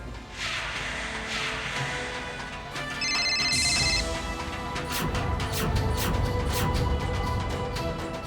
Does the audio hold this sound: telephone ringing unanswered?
yes